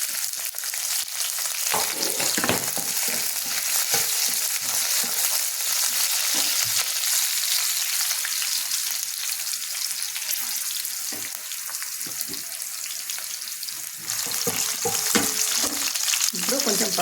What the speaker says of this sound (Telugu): ఇప్పుడు ఉల్లిగడ్డలు వేస్తాం. ఉల్లిగడ్డ, 2 పచ్చిమిరపకాయలు.